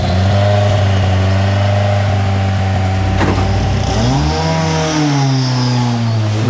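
Ken Block's 650 horsepower rallycross car roars loud and close, its engine holding a steady high drone, then dipping and climbing again through a rev sweep with no talk over it.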